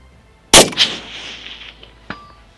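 A hunting rifle shot at a steel target 400 yards out: one sharp, loud report followed by a ringing clang, then a fainter second metallic ping as the echo trails off.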